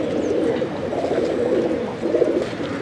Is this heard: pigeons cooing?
yes